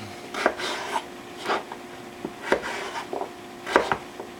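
A knife chops butternut squash into dice on a board, about eight crisp, evenly spaced cuts ringing out close and loud with no talking.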